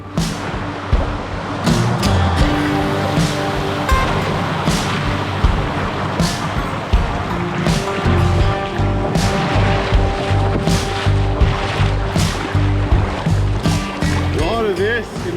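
Canoe working down a very long whitewater rapid on an Arctic wilderness river, steady loud rushing water and surf roar throughout, with a low motor-like drone and a faint voice over the torrent.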